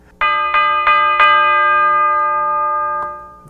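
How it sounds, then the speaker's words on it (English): A bell layered into a hip-hop beat: four quick bright chimes in succession, then a fifth after a pause, each ringing out with long sustaining metallic tones, loud and clean without any talk. "And then I added a bell."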